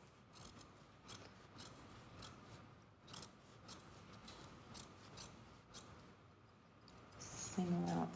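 Fabric shears snip steadily in a quiet rhythm while trimming a sewn seam allowance, faint and close, with soft rustling of cloth and a slightly louder handling noise near the end.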